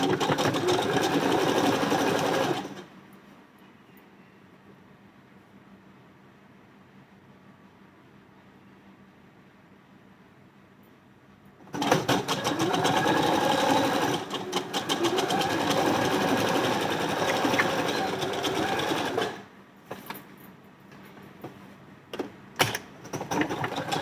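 A sewing machine runs steadily while stitching a blouse seam in two loud bursts, stopping for a quiet pause between them and ending with a few short, uneven runs.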